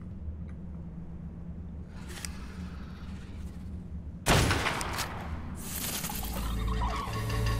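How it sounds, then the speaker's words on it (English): Rifle shots fired at scorpions in the survival video game Ark Survival Evolved, a sudden loud burst followed by sustained blasts and rumbling commotion after a quieter stretch. "I'm gonna grab the rifle and I'm gonna see if I can shoot some of these suckers."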